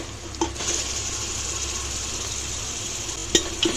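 Ground masala paste frying with onion and tomato for a chavli batata rassa bhaji, a steady soft sizzle with a few faint utensil taps, no talk.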